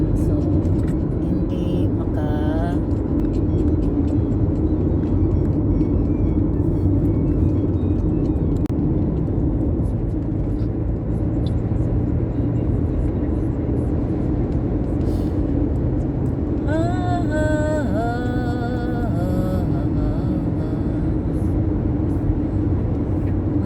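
Steady road and engine rumble from a car moving in heavy traffic on a road, continuous and close throughout, with a voice talking over parts of it.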